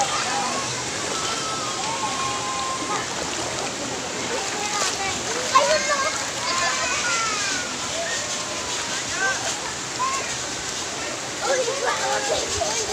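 Cold, clear river water runs over a rocky stretch near its source, a steady broadband rush and splash throughout with someone talking over it.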